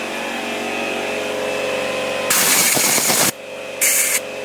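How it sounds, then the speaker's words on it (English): An air hose blasts dust out of drilled holes for anchors while closing in a carport: a loud hiss for about a second, then a shorter second burst, over a steady background hum. "I'm going to take my air hose and blow the dust out of there"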